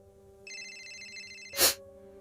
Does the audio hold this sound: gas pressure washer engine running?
no